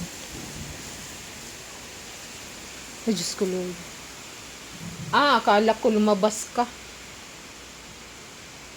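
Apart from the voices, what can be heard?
heavy rain and wind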